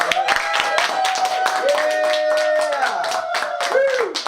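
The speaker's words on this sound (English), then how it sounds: "And big round of applause." A big round of applause and cheering from a group during a treatment session, steady clapping mixed with whoops and excited voices throughout.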